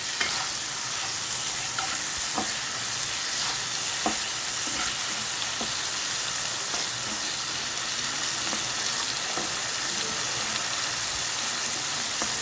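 Chirar polao, flattened rice, stirred and frying in a pan over a raised gas flame, a continuous sizzle with periodic scraping clinks of the spoon against the pan, no talking.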